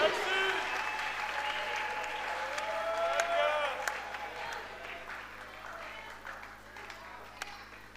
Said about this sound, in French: Donne à Dieu une main d'acclamation.